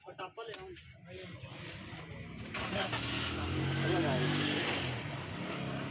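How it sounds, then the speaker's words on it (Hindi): A Suzuki Alto with a cam/crank sensor fault starts up: a brief cranking burst with a voice nearby, then the engine catches and settles into a steady, fairly loud idle hum. "दोबारा चेक करते हैं स्टार्टिंग इसकी।"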